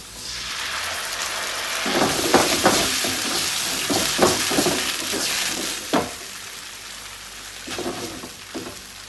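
Passata poured into a hot pan for a ricotta-ball pasta bake, a steady broadband sizzle with repeated stirring scrapes and splashy bursts, close and fairly loud, no voices.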